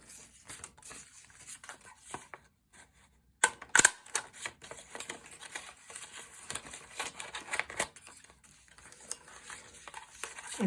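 A handheld craft punch cuts shapes from 120 GSM smooth printing paper, producing a run of sharp irregular clicks and crisp snaps close by, with brief quiet gaps between bursts.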